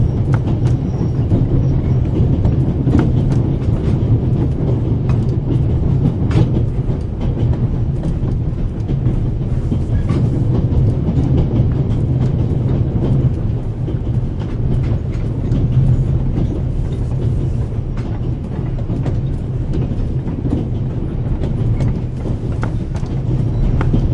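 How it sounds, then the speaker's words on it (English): Continuous loud rumble inside a moving train carriage, a dense steady drone with faint rhythmic clatter from the wheels and occasional clicks, and no voices. "The noise on this train is driving me crazy."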